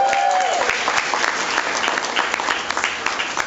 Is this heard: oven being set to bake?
no